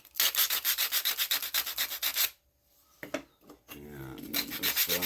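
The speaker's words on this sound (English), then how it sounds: "just a couple swipes of the sandpaper and they're gone" Sandpaper rubbing back and forth on starter battery box parts in quick, rhythmic close-up swipes, a pause with a few light knocks, then more scratchy strokes.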